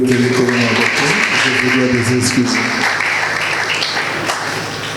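A church congregation bursts into applause, dense clapping that fills the room with a voice carrying over it early on before the clapping continues alone and fades slightly.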